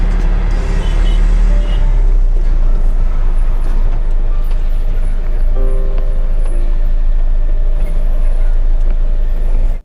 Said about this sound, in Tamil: வண்டி ஓரம் எடுத்து போமா